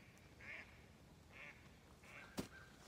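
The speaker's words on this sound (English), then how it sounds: "Look, there's a mallard." A mallard duck on a lake gives several spaced quacks at moderate distance, ending with a short sharp knock, under a quiet outdoor background.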